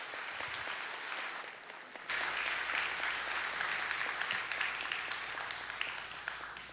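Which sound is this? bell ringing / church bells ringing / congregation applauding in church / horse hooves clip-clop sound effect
congregation applauding in church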